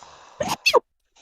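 A single person sneezes once, a sharp two-part burst of air and voice, close and loud, followed by near silence with a faint murmur at the end.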